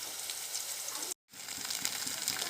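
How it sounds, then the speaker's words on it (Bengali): Ginger-garlic and cumin paste sizzles as it is sautéed, giving a soft, steady hiss that cuts out for a brief moment and then resumes. "আর দেব একটু আদা রসুন বাটা, জিরা বাটা একসাথে। ভালো করে কষিয়ে নেব।"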